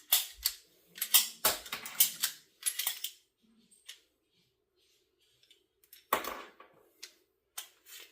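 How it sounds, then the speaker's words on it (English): Dummy rounds are cycled by hand through an M&P 9 Shield pistol, giving a run of sharp metallic clicks and clacks in irregular bursts with short quiet gaps, close and fairly crisp, with no talk. "And now I will go ahead and finish cycling these last dummy rounds that I have in here."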